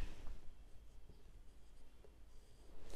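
A pen scratches across paper while ledger figures are written out for an accounts problem, soft and close, with faint strokes over a low background hum.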